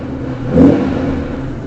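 A 2006 Aston Martin Vanquish S gives a short, loud blip of the throttle, the engine note swelling and falling back to idle, recorded close to the rear wheel.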